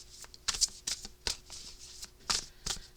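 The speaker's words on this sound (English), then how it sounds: "This is why I can't shuffle every single deck for the messages." A deck of tarot-style cards is shuffled by hand in quick bursts of papery riffling and flicks, close and fairly quiet, with no talking.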